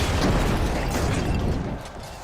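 A frag grenade detonates in The Finals, a loud, close blast with a heavy low rumble and scattered debris noise that slowly tapers off.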